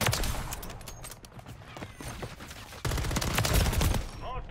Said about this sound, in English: I'm literally destroying that one guy with his own gun